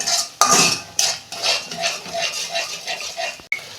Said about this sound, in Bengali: দু মিনিট আমি মশলাটা একটু কষতে নেব